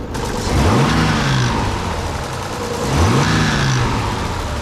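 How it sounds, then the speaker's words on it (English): A Nissan 300ZX engine idles and twice blips its revs, the tone rising and falling each time over a constant mechanical rattle from the VTC gear. "VTC gear rattle for sure"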